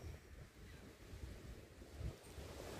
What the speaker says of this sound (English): And the waves are real, real light.